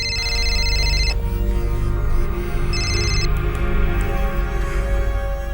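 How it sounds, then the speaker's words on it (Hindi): A phone rings with an incoming call in a TV crime drama: two short bursts of a bright, tonal electronic ringtone over a steady backing score. "कॉल लो नम्रता और फोन को स्पीकर पर डालो।"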